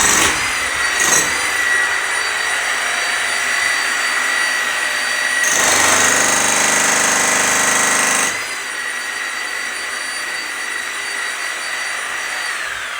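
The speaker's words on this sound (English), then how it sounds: "the noise that you can still hear drilling away in here" Masons run a power drill inside a beach house under construction in Barbados, giving a loud, continuous high whine that swells to a harsher burst midway, then settles back to a steady drone.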